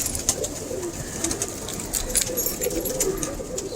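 Several young pigeons coo softly in a coop, with repeated low cooing calls under light rustling and background noise, fairly close.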